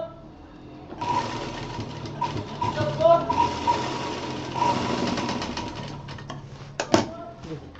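Close, rapid mechanical whirring of a sewing machine stitching fabric piping, running in steady bursts with brief pauses between them, while a person talks throughout.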